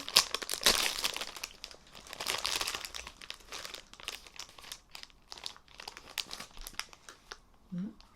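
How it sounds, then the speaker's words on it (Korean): Crinkly plastic packaging on a chocolate-cream Pokémon snack cake is torn open up close, with a long stretch of rustling, crackling and tearing. A voice, likely a child's, talks over it near the end. "고스고스라는 빵을 한번 뜯어볼게요"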